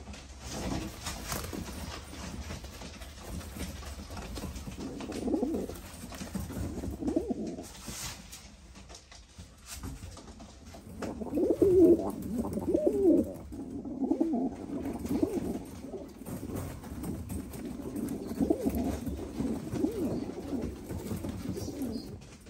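Ornamental birds cooing steadily in a breeder's coop in Istanbul, with many birds housed together; soft, overlapping coos swell and fade throughout, close and continuous with no talk.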